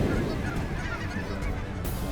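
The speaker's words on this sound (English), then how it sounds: "there's some white geese in there" A flock of white snow geese honks overhead during an early-season waterfowl shoot in Saskatchewan, a dense, continuous chorus of overlapping calls from many birds at moderate distance.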